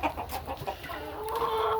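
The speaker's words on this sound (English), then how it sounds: "We're going to remove all these roosters in here, put them in the rooster pen." Chickens and roosters cluck inside a hen coop, a busy run of close, rhythmic clucks that builds into a louder, sustained call toward the end.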